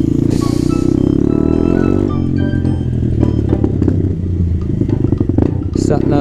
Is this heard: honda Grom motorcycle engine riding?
yes